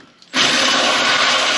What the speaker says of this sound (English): so I'm going to pop a drill hole